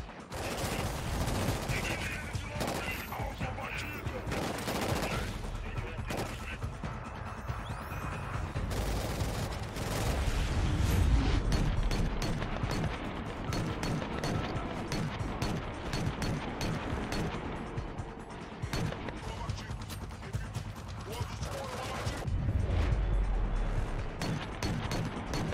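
Rapid gunfire bursts in Killzone Shadow Fall come in dense volleys, with mechanical clanks and occasional louder impacts throughout.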